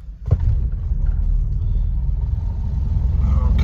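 A 1941 Cadillac barn-find engine running with a slipping clutch gives a steady, loud low rumble that holds at an even level after a short knock at the start.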